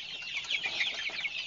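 A group of month-old KUB chickens chirps and peeps in quick overlapping bursts, soft and high-pitched, and no one speaks.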